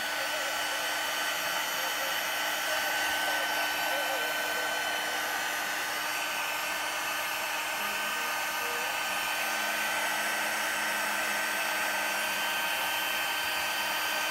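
Hair dryer blows a steady, constant whir for the whole stretch while drying freshly painted white areas on a decorated bottle, close and moderately loud with no talking.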